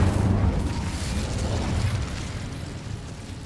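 An Incendio fire spell cast in Hogwarts Legacy, a dense low rumbling whoosh and burst that stays loud and steady through the whole stretch, with no voices.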